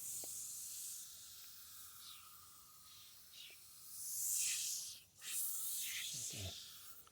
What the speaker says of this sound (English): You're gonna spray evenly around the tire wall.